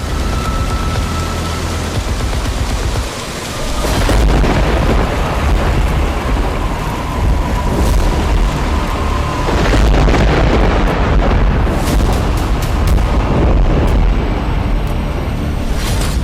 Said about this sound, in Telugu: ఉరుములు, మెరుపులు భారీ వర్షాన్ని సూచించాయి.